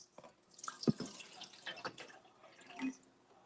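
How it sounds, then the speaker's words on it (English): Water poured from a small vessel into a kettle, giving close, quiet splashing and trickling with a few drips over a few seconds. "So we're just going to take this water and we're going to put it into the."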